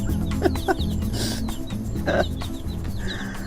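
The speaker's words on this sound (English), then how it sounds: "Oh, little chickens." Several chickens in a chicken run cluck and chatter close by, short irregular calls overlapping against a steady background murmur.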